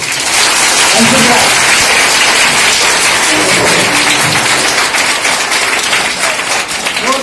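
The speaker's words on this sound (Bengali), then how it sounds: "সবাই একসঙ্গে একটু জোরে একটু হাতালি হয়ে যাবে" Students at a high school lab inauguration clap together in a sustained burst of applause, loud and close, with voices talking over it.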